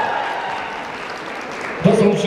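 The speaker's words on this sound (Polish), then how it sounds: "Brawa!" Audience applause at a rural housewives' circles tournament in Stężyca, a moderate wash of clapping running under a host's voice, with a louder burst of sound near the end.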